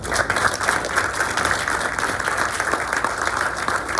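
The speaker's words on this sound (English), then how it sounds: "let's give a round of applause for our speakers" Sustained applause from an audience at an energy storage project dedication ceremony in California, steady and dense throughout with no pauses.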